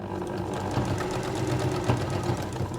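A sewing machine stitches quilt binding along a seam to the end, a steady close mechanical hum with a fast rhythmic needle chatter running throughout without a break.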